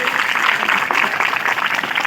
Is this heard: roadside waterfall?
no